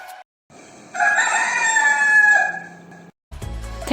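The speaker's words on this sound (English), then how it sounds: "It's a rooster." A rooster gives one full cock-a-doodle-doo crow lasting about two seconds, close and loud, with short gaps of quiet on either side.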